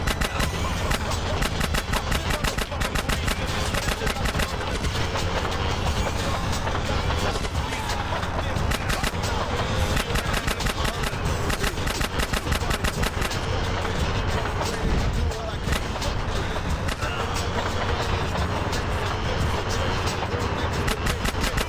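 Rapid gunfire rings out during a train chase through San Fierro in GTA San Andreas, dense and continuous over a rumbling vehicle engine and game music for the whole stretch.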